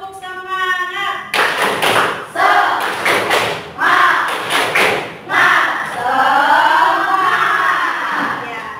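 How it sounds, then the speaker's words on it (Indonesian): A school class in an Indonesian lesson performs a rhythmic spirit clap, loud patterned bursts of claps and thumps close by, interleaved with voices chanting along. "Tepuk semangat."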